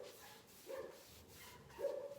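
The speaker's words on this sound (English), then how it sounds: "And that's the dog next door." Faint dog barks from a distance, two muffled woofs spaced apart, quiet against a low background.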